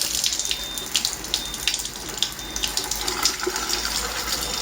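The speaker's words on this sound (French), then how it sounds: "la machine va se nettoyer" A Kangen water machine runs its automatic self-cleaning cycle, with water flowing and splashing steadily into a sink at moderate volume.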